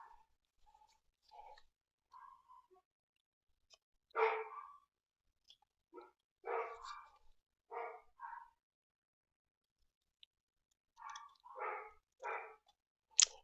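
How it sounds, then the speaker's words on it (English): Several dogs barking indoors in repeated short bursts, the barks clustered in pairs and triples with quiet gaps between, fairly close and clear with no talking over them. "If you hear my dogs, please forgive that."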